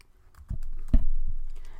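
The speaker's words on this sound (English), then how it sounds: "So I'll type in my username and the password" Typing a username and password on a computer keyboard: several distinct key taps, with two or three firmer presses standing out over light clicking, close and fairly quiet.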